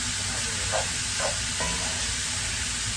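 Ground beef browns in a pan for beef empanadas, giving a steady, broad sizzle with a few soft scraping stirs, close and with no one talking.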